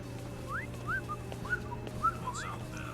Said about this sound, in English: The tweeting whistle.